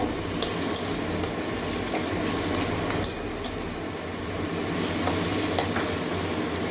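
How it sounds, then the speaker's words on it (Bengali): Chopped ginger, garlic and tomato frying in a pan for a yogurt potato and pointed gourd curry, a dense continuous sizzle with scattered light clicks of stirring throughout. "আদা রসুন কাঁচা গন্ধটা যাওয়া পর্যন্ত ভাজবো"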